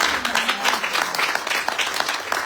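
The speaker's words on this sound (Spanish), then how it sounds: "¿Podemos dar un aplauso al Señor para eso?" A church congregation applauding, a lively burst of many hands clapping at close range that swells and continues steadily for a couple of seconds.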